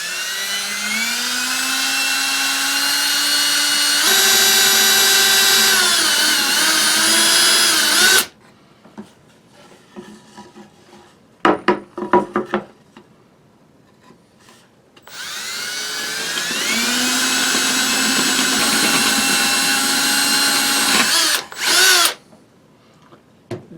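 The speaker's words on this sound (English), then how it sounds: "Okay, let's drill another hole now." A power drill with a 1/2 inch bit boring holes in wood for a marten box trap, two loud sustained whines of several seconds each with a quieter gap of faint knocks between them.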